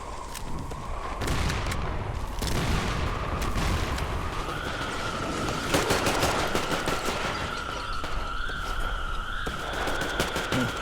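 Rapid bursts of automatic gunfire in the video game Metro Exodus, loud and continuous, with sharp cracks layered over a sustained tonal game score and no talk.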